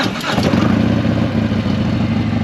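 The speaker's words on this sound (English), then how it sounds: "So let's go ahead and crank it up, let you hear what it sounds like." A Harley-Davidson Softail Sport Glide with a Stage II upgrade cranks and fires up, settling quickly into a loud, close, throaty rumble with no voices over it.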